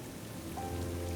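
Rain falling steadily in the wilderness, a soft continuous patter on surfaces with a low, faint hum underneath, heard alone for a brief moment.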